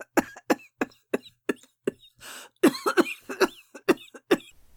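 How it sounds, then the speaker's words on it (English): A woman's insufferable fit of coughing, acted out in a dramatic reading of Crime and Punishment: a run of sharp, loud, close hacking coughs in quick rhythm, broken by a raspy gasp partway through. "Here her laugh turned again to an insufferable fit of coughing that lasted 5 minutes."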